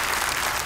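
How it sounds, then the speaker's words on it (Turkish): Steady, dense applause from a hall audience after a contestant's turn at a Quran recitation competition, loud and continuous through the whole brief moment with no pause. "Ve kendisini bir kez daha alkışlıyoruz coşkuyla."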